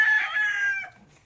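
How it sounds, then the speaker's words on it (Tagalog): A single rooster crows loudly nearby, a brief, strained call that trails off into quiet. "Magdakip kami ng manok guys."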